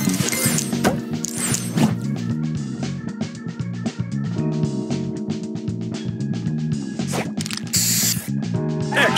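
A spray booster effect in the Match Masters game, a hissing burst mixed with clinking and chiming game tones and a busy musical backing, loud and continuous with no speech.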